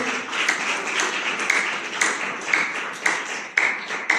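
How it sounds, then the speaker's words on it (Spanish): A church congregation claps together in a steady rhythm, sharp accents landing about twice a second over a wash of hands, with no speech on top. "Dele fuerte aplausos al Señor, hermanos."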